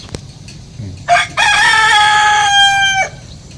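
A rooster on a backyard poultry farm gives one loud, close crow lasting about two seconds, preceded by a short cluck, with no talk over it.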